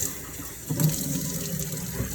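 Tap water runs steadily into a sink over an orchid, a continuous rushing splash that thickens slightly partway through, close and fairly loud.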